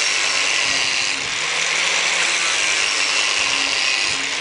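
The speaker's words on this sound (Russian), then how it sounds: "Диск миллиметровый режет хорошо." A one-millimetre cut-off disc grinds through a metal pipe, giving a steady, close, high-pitched abrasive whine that dips briefly as the cut bites, then holds.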